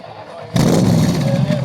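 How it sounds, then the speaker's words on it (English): A Ford GT350 at a cruise-in in North Tonawanda, Buffalo, NY, its engine suddenly bursting into a loud, close, deep rumble that holds steady after a quiet moment of background chatter. "Whoa, what a rumble."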